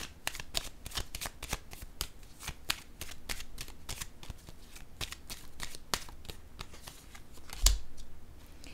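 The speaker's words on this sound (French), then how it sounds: "Je vais déposer une carte ici." Tarot cards are handled and laid down, a close run of rapid riffling flicks and slaps at a brisk, fairly even pace, ending in a sharper thump as a card lands.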